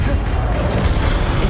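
Short burst of the Expelliarmus disarming spell cast in Hogwarts Legacy, a dull boom with a sharp crackle on top, mixed with voices and game effects.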